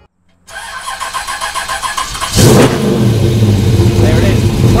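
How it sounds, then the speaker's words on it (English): A Holden VH Commodore with a 355 stroker engine cranks with a rhythmic starter churn, then fires and roars into a loud, steady rumble close by. "she should fire straight up"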